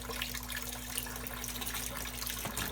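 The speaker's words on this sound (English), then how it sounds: "That's just water coming out of the pipe as I'm forcing the hose in." Steady close trickle and gush of water flowing out of a frozen water line pipe as a hose is pushed in, continuous and alone, with a faint hum underneath.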